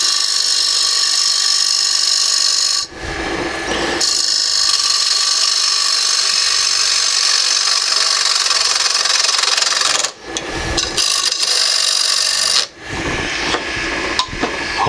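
A maple bowl being scraped on a wood lathe gives a steady, loud, hissing rasp. It breaks off briefly three times as the tool lifts and then comes back down.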